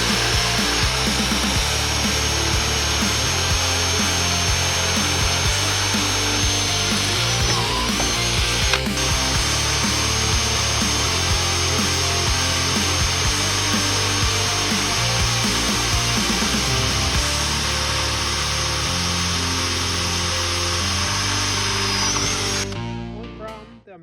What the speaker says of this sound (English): Now I'm going to drill a hole that's going to be a little bit bigger than 1/4 inch